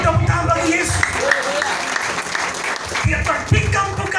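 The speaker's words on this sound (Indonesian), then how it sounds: "Berikan tepuk tangan bagi Yesus" A church congregation applauds with a steady wash of clapping, while a strong voice and low musical tones carry over it throughout.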